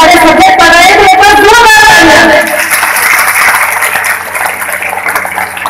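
Applause from the audience at a college foundation day and felicitation ceremony, a broad wash of clapping that follows a loud passage of voice and music and then carries on steadily at a lower level.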